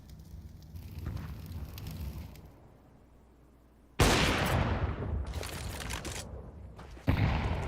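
A molotov fire burns in Counter-Strike 2: a steady crackling roar, joined by loud sudden bursts of game gunfire and blasts partway through, close and dense.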